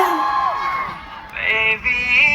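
Fans at the Black Music Festival in Uijeongbu scream and cheer for a live hip-hop set, high shrill voices rising into a loud, sustained crowd roar over music.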